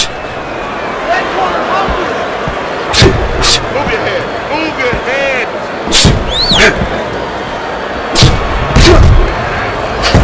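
Punches thud in the Fight Night Round 4 boxing video game, including a body shot, as several heavy impacts land over a steady crowd roar while a commentator talks throughout.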